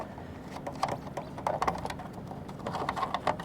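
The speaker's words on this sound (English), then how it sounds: "unscrew these" Radar cable connectors being unscrewed by hand on a yacht give faint, closely spaced ratcheting clicks and small metallic ticks over a low background hum.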